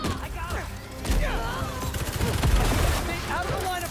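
Gunfire in Marvel's Spider-Man 2, a dense fusillade of rapid shots and impacts mixed with game effects and voices talking over the action.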